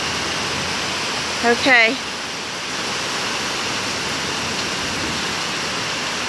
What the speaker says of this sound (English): that is muddy water, like a river running down my driveway.